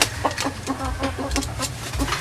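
A hen clucks repeatedly near an egg-laying basket on a farm, a string of short, close, rhythmic clucks over a low background rumble.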